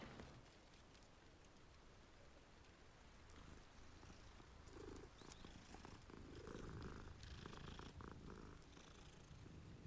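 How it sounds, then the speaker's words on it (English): A cat purrs steadily and continuously in the video game Hogwarts Legacy, a soft rumbling loop with a faint patter like rain behind it and no talking. "It's a cat."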